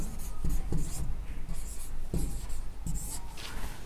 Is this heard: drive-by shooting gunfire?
no